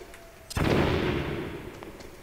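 A weak wall is blown down by an explosion in Metal Gear Solid on PS1, a single sharp bang with a rumbling decay that fades over about a second and a half, heard alone at moderate loudness.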